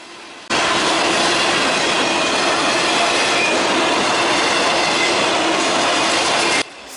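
Norfolk Southern 308, an automotive manifest freight of auto racks and grain cars, rolls past close by in a loud, continuous roar of wheels with squealing and clattering, starting and stopping abruptly.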